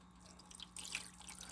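Liquid mixture poured over a brisket for a Crock-Pot, faint splashing and dripping trickle that swells partway through, low and close with a steady hum beneath.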